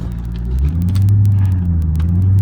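A 2005 Cadillac CTS-V sedan's engine revs loud and close, a deep throaty rumble that swells after a brief dip and then holds steady, with no talking.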